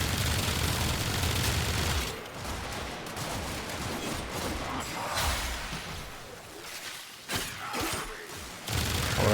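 Sustained automatic weapon fire in Warframe, a loud dense clatter of rounds running through most of the stretch, easing into scattered bursts with brief gaps before picking back up near the end.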